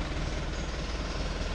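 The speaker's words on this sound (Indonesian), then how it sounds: "Suaranya khas kan untuk diesel yang Isuzu emang lebih halus ya" Isuzu Elf Giga NLR turbo diesel engine running in a minibus, a low steady idling rumble with even fine pulsing, close and alone without talk.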